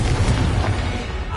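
A Confringo blasting-curse explosion from Hogwarts Legacy: a single loud, deep boom with a rumbling low body that fills the whole short moment.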